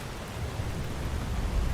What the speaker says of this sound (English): Oh, the rain came back.